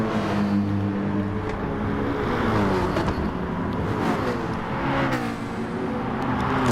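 GT3 race cars, a Porsche and a Mercedes, run at Lago Maggiore in a racing game, engines droning steadily at high revs with shifting pitch as they chase each other closely.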